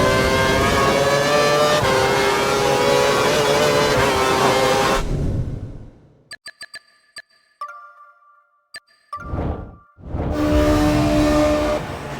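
A Formula 1 car with a Renault engine screams past in an F1 video game, a loud high-revving whine for several seconds, then a few short clicks and beeps in near silence before the engine roars back.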